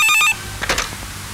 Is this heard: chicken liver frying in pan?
no